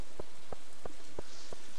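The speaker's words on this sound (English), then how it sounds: "It's a good day to do it since it's raining." Rain falls in the farming game Stardew Valley as a steady, dense hiss, with soft regular blips pulsing about three times a second.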